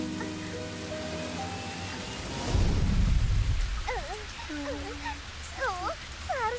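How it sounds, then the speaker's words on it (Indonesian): Heavy rain pours in a cartoon scene as thunder rumbles loudly in a sudden low crash midway, while animated characters chatter and squeak over the steady downpour. "Hujannya semakin deras."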